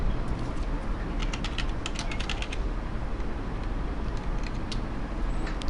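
Keys clatter on a computer keyboard as a web address is typed, with quick bursts of clicks early on and sparser taps later over a steady background hiss.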